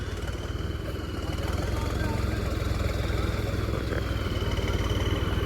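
A tractor's engine chugs steadily as it is driven at a trolley-pulling competition in Naushera Pannuan, a close, continuous rhythmic rumble without pauses.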